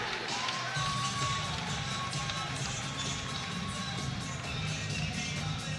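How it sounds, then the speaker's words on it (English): A boxing arena crowd at the Liam Smith versus Liam Williams rematch gives a muted response, a steady low murmur of noise with a faint commentary voice beneath it and no real surge of cheering. "Slightly muted response from the crowd"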